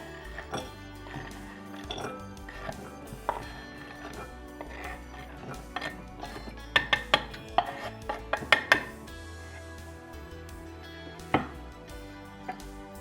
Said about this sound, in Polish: Posiekaną czekoladę przekładam do miski.